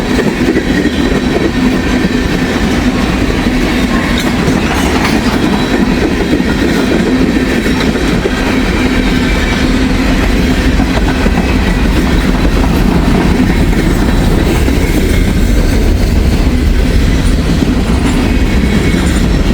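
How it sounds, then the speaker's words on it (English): Long freight train with open boxcars rolling past close by, a steady loud rumble with continuous clickety-clack of wheels over rail joints and faint wheel squeal, no voices. "Man, it's a big train."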